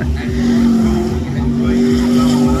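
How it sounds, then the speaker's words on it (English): A supercharged Ford V8 jet sprint boat with an HRE engine races at Waitara, New Zealand, its loud, steady engine roar holding throughout with a sustained low drone and shifting pitch. "The boat is a work of art. HRE engine, and Rob was really having an amazing day with this thing."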